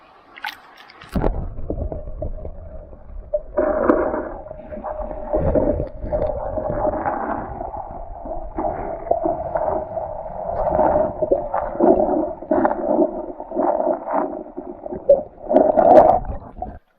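A camera dipped into river water picks up muffled underwater gurgling and bubbling, a steady murky wash with a few brief louder bursts, close to the microphone and with no talk.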